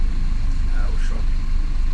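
Interior of a moving city bus in São Paulo, a steady low engine and road rumble filling the cabin with faint passing noises, while people talk over it.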